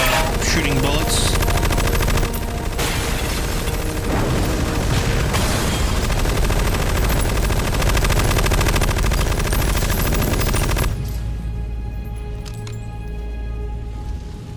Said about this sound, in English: Weird way of shooting bullets.